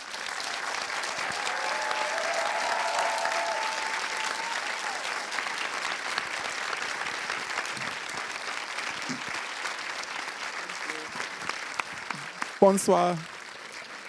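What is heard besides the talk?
audience applause for a guest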